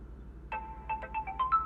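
A telephone ringtone plays during a call, a short melodic sequence of bright electronic tones, quiet and clear over faint background hum.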